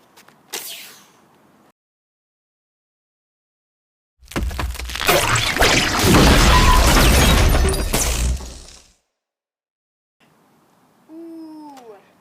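A rocket launcher fires and smashes into a lamppost: a loud, dense roaring blast of about four and a half seconds, with brief short sounds before it and a faint rising whistle-like tone after.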